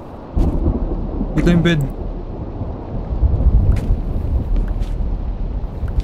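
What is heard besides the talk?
rain and thunderstorm in the video game Minecraft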